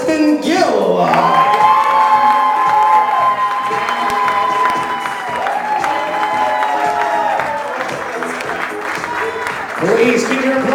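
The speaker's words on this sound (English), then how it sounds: "please put your hands together for our newlyweds, the new Mr. and Mrs. Preston Gill." Wedding guests at a Navy base officers club in Newport, Rhode Island cheer and applaud the newlyweds, loud crowd noise with whoops mixed under music and a voice over the room.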